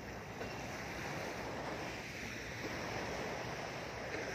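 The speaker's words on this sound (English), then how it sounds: "It's a really nice beach here." Waves wash onto a beach in Khanom, Thailand, a continuous broadband surf roar mixed with wind buffeting the microphone, steady and fairly loud throughout.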